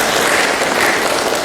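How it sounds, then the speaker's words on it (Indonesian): Dense, loud applause from a group during a student discussion, a continuous wash of many hands clapping with no gaps, steady throughout. "tepuk tangan untuk Nizar"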